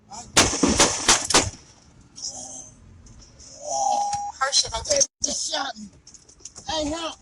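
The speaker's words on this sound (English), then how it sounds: "Moments later, gunfire." A rapid burst of several loud gunshots, followed by a person speaking and then more sharp cracks among distressed voices.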